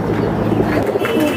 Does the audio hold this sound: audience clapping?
no